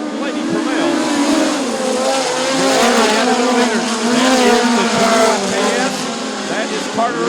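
Midget race cars roar through a turn at Bubba Raceway Park during a POWRi National Midget League event, their engines whining and warbling in overlapping passes while an announcer talks over the racing.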